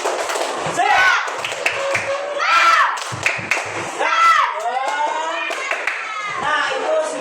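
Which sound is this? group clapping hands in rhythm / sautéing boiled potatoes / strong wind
group clapping hands in rhythm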